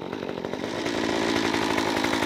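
A Stihl MS 194T top-handle chainsaw runs steadily near the mic, its loud, buzzing engine note rising slightly and holding a constant high idle.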